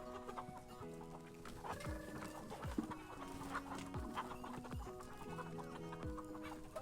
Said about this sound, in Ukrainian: Зараз побачите, як кури їдять.